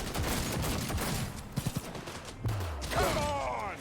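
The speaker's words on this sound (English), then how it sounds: "I hear gunfire." Gunfire crackles in the Cyberpunk video game, a dense fusillade of rapid shots with a few sharper bursts over a busy background, moderately loud and somewhat distant.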